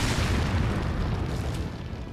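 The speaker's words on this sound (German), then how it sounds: "scheiß Explosionspfeil ins Gesicht" A deep, rumbling boom from an explosive arrow detonating in Resident Evil 4 Separate Ways, loud and sustained with a rolling low-end tail that fades gradually.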